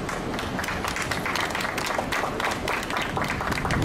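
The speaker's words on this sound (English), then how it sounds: "Come on, let's clap it up for DPS." Crowd applause at a school district launch press conference, dense steady clapping from many hands filling the room with no break, loud and continuous throughout.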